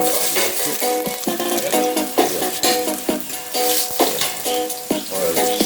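Beef hitting very hot oil in a pan for a Jamaican curry beef, sizzling and crackling continuously with rhythmic stirring scrapes and spatters, close and fairly loud.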